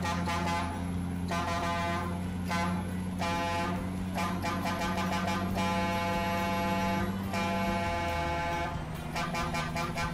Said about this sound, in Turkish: On numara 5 yıldız bir korna.